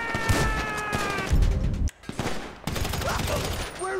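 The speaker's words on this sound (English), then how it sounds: "We're receiving fire." Gunfire in the video game GTA V, rapid overlapping shots in a loud fusillade with bursts and brief gaps, mixed with game voices and music tones.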